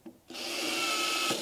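A power drill bores through a stout wooden board for arcade cabinet speaker holes, starting with a brief bump and then a steady, close whirring grind that runs continuously.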